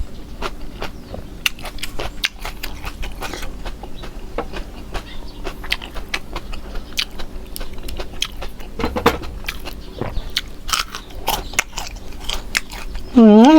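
Crispy fried dory fish crunches under repeated bites and chewing, sharp crackling snaps in an irregular rhythm, close and fairly quiet, with a short voice near the end.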